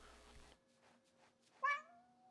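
A single short cat meow from Myspace the cat in the Calico video game, rising then trailing off at moderate volume over quiet game background tones.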